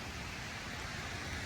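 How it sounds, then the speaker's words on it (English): Rain falls on a wet day at the Oconaluftee Visitor Center in Great Smoky Mountains National Park as a steady, faint, even hiss with no voices. "Rainy day in Great Smoky Mountain National Park"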